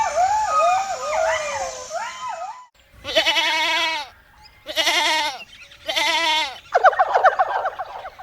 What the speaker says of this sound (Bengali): আরে, এইটা তো কিংকং এর সেই ছাগল